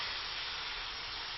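Sesame oil hisses in a very, very hot pan, a steady, even sizzle that fills the short stretch on its own with no voices over it.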